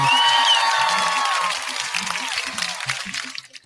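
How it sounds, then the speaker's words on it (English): Applause and clapping from a studio crowd on a sports radio comedy show, a dense wash of clapping that fades after a moment while low voices murmur underneath. "Why is there clapping?"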